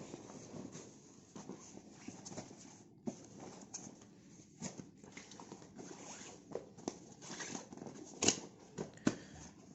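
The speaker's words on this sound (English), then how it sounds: "You have zips on both sides." A motorcycle touring jacket's zippers and fabric are handled at close range, giving quiet, scratchy rasps and rustles, with a few sharper clicks scattered throughout.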